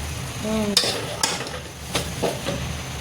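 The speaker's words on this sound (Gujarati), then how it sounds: "એટલે ઘી નાખીને થોડીક વાર હલાવવાનું ને બદામી થાય" Sukhdi flour browns in ghee in a pan, with a soft continuous sizzle under several close scraping strokes as a spoon stirs it.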